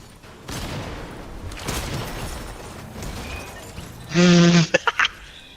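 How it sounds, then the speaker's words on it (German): A shotgun fires in the Fortnite video game as a loud burst near the end, followed by a few quick sharp cracks, over a steady bed of game noise. "Das war eine langsame Schrotflinte."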